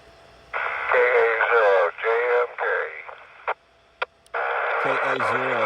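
Amateur radio voice exchange relayed through the International Space Station, with clipped transmissions full of static and callsign-style talk, pauses and squelch bursts between overs, and a second transmission starting near the end.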